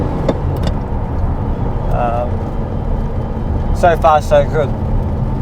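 A Ferrari 512 TR drives with a steady low engine and road drone inside the cabin, while occupants talk briefly over it.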